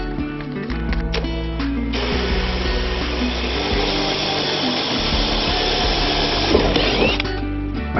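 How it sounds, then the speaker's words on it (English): A drill bores an antenna hole in a Honda Goldwing GL1800 panel, a steady loud whirring grind running continuously and close, with a brief softer start before the motor settles into its sustained buzz. "they want me to drill from the back in"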